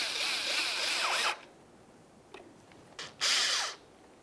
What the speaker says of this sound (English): Go ahead and start in that Phillips head screw and snug it up